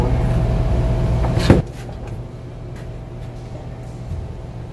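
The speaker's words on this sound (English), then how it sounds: "Open the door." A car door is opened, a single sharp click and thump of the latch and door that cuts off a steady idling hum, followed by quiet ambience with faint rustling.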